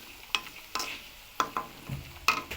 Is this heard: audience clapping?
no